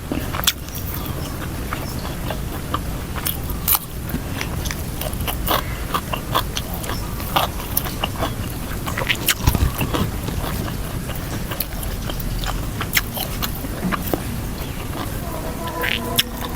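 Continuous crunchy chewing of pork skin close to the mic, with rapid crackling bites and munching throughout.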